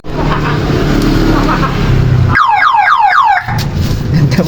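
A repaired vehicle alarm is tested during a sound check. Loud engine-like rumble runs throughout, broken by a burst of rapid, repeated descending electronic chirps lasting about a second.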